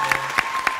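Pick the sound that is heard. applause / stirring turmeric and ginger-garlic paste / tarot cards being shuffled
applause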